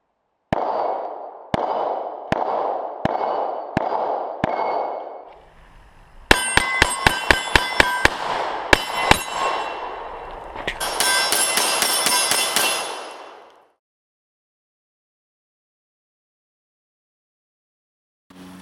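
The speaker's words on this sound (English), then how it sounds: "Let's get to shooting the Gen 4 Glock 17." Gen 4 Glock 17 9mm pistol firing reloaded ammunition at targets five yards away on an outdoor range: an evenly spaced string of loud, sharp reports, then bursts of further shots with ringing metallic clangs, followed by silence.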